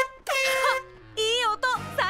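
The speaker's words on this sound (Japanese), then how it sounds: "クラクションどうしたの？ ちょっと違ってる。" A cartoon toy car's newly fitted horn blares in three loud, brassy honks, each a short blast with brief gaps between them.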